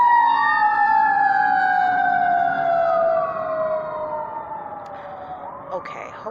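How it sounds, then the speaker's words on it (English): An ambulance siren wails loudly as it passes through a busy high-traffic street between two hospitals, its pitch sliding and falling away as it moves off, with traffic noise underneath. "Excuse the ambulance."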